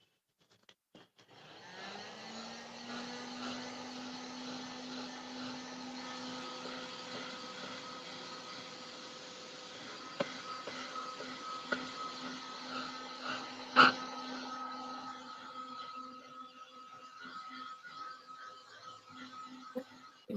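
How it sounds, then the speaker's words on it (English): A heat gun blowing hot air over a craft embossing piece, heard as a steady close whirring drone with a faint tonal hum that runs unbroken, plus a few small knocks. "So now I'm going to use heat gun here and you will see this will turn golden."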